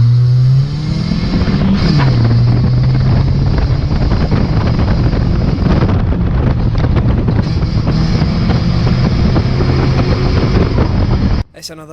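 Race cars launching off the starting line, a loud sustained engine roar close to the microphone with a rising then steady pitch, buffeted by wind noise, cutting off abruptly at the end.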